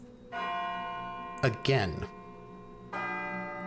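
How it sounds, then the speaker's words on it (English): A church bell rings out the midnight strikes, two ringing tolls with long decaying hum separated by a short spoken word, fairly faint and distant. "the church bells striking midnight"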